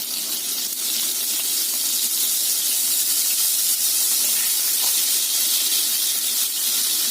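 A steady, loud sizzling hiss of margarine melting in a hot pan fills the whole stretch, constant and close without any talking.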